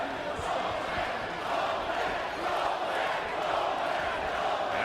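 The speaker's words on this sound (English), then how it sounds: "And the crowd chanting Poland." A boxing arena crowd at a Tomasz Adamek fight chants Poland, a dense sustained roar of many voices that swells and dips steadily and stays loud throughout.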